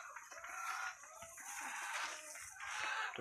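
A dense chorus of egg-laying hens clucking and crowing continuously, fairly close, inside a chicken coop, with a busy, steady barnyard texture throughout.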